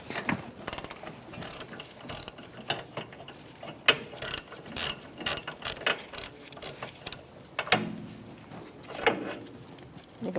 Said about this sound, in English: I'm using a 13mm and an extension to remove these 2 bolts.